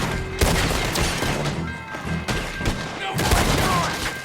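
Rapid rifle fire from a repeater in Red Dead Redemption 2 during a jailbreak, loud close shots cracking off in irregular bursts with ringing echoes, amid chaotic game noise.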